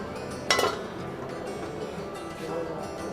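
A metal lid set down on an appam pan while chicken keema appam cooks gives one brief clatter early on, heard over a voice speaking.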